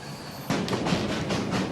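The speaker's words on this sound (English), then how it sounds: "They have another 10 hours on the train before they reach Kars" The East Express passenger train rolls along rails on the long journey from Istanbul to Kars in eastern Turkey. After a quiet moment the sound jumps to a loud steady rumble with rhythmic clickety-clack beats from the wheels crossing rail joints.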